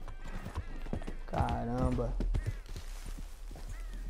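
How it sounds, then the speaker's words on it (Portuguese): Horse hooves clip-clop at a steady pace in Red Dead Redemption 2, and the horse lets out a whinny midway while someone speaks briefly. "Parar o cavalo aqui, galera."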